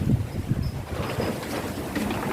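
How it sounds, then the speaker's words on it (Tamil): Strong wind gusting across the microphone outdoors, a steady rumbling low roar with brief buffeting bursts throughout, no voices. "காற்று இப்போ இன்றைக்கி ரொம்ப காற்றடிக்குது"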